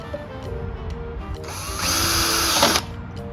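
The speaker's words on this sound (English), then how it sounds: "I'm gonna just drill it." A power drill bores a 3/16 hole in a greenhouse part during assembly, a close whining spin-up that grinds loudly for about a second over faint room noise before stopping.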